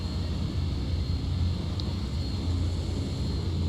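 An Embraer 120 turboprop airplane sits on the ground, giving off a steady low engine rumble with a faint high whine and no talk.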